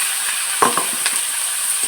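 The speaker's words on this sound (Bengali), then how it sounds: "ভালো করে কষাতে হবে।" Potato, eggplant and yam with green chillies being sautéed in a pan, a steady close sizzle with a few soft scrapes and clicks of a spatula stirring, no voices.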